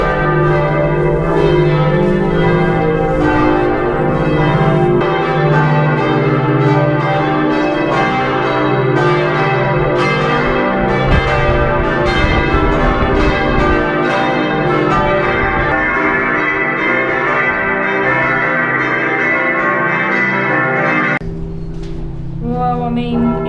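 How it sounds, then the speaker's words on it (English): Church bells in a Florence bell tower ring loudly and continuously at close range, with overlapping clangs and long ringing tones for about twenty seconds before they abruptly fall away. "Well, I mean, it is a bell tower."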